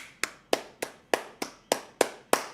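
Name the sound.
clapping for the woman who helped with cosplay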